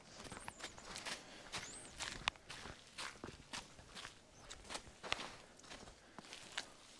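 Footsteps on an outdoor path in Freiburg, a steady irregular series of close, crisp steps with light crunching, heard alone without talk.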